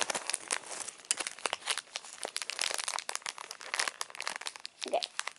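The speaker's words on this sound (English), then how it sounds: "So I'm gonna use scissors." Scissors cutting open a plastic bag, heard as close, crisp crinkling and snipping rustles in irregular bursts, fairly quiet, with a brief vocal sound near the end.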